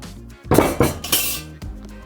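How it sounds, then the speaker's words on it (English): An oversized cast iron pot for pulled pork handled at close range, with a few heavy metallic clanks and scrapes in quick succession, loud and without talk. "This oversized cast iron pot, this is what we're going to put our pulled pork in"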